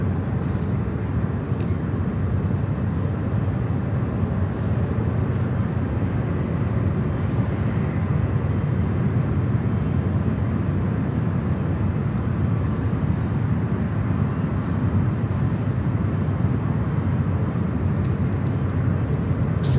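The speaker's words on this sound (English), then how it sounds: "We do have that Air France 777 heading our way." An Air France Boeing 777 approaching San Francisco airport sends out a continuous, moderately loud engine rumble with a steady broadband roar that stays even throughout.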